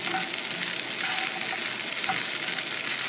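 Boudin sausage sizzles steadily in a pan while being stirred and broken up for stuffed peppers, a dense continuous hiss with faint scraping ticks and no voices.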